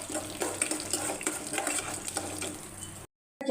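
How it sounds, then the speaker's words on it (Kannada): Peanuts, chana dal and urad dal frying in a pan on a low flame and being stirred, with soft sizzling under repeated scraping and clinking of a spoon against metal, close up and without talk, cutting briefly to silence near the end. "ಸ್ವಲ್ಪ ಚೆನ್ನಾಗಿ ಕಂದು ಬಣ್ಣ ಬರೋ ತನಕ ಫ್ರೈ ಮಾಡ್ಕೊಳ್ಳಿ"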